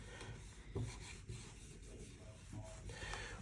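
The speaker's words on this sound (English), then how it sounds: "clean the area that we're going to stick the pin guard to around the keypad, and that's using one of these wipes" An alcohol wipe rubs and scrubs across the area around a PTi keypad to clean off grease, a close, steady rasping swish lasting the whole stretch with a few firmer strokes.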